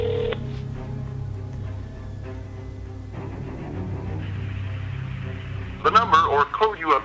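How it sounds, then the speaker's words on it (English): Telephone call ringing through the handset as a steady, muffled ring tone over low hum, followed near the end by a brief burst of a recorded voice. "It's ringing."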